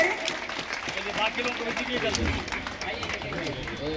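Welcoming applause from a crowd at a village employment fair inauguration, a moderate clatter of clapping under a speaker's voice talking over it throughout.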